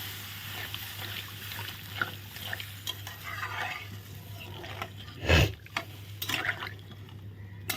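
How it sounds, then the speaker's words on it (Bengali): Spice paste thinned with a bowl of water gets stirred in a cooking pot, soft sloshing and scraping strokes with a louder clank partway through, close and fairly quiet over a low steady hum. "এখন ভালো করে নেড়ে চেড়ে মিলিয়ে দেবো"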